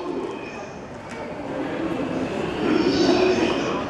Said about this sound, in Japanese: 9番線に寝台特急北斗星札幌行きが参ります。